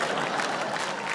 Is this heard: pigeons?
no